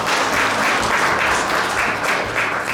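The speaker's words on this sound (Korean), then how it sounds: "김화룡 동문께 다시 한번 큰 박수 부탁드리겠습니다." Sustained audience applause at a memorial ceremony for the late Park Tae-joon, a dense steady wash of clapping from a large hall crowd, even and continuous throughout with no voices.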